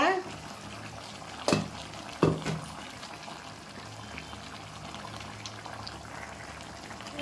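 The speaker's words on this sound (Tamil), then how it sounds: "தண்ணியை ஊற்றிக்கலாங்க" Water is poured into a cooking pan that already holds cashew nuts, giving a soft, hissing, bubbling wash with two brief louder splashes, all fairly quiet.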